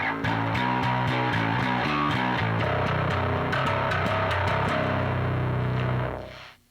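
Electric bass played through a distortion effect, a run of loud, gritty repeated notes in a steady rhythm that swells into a sustained chord and then fades out abruptly at the end.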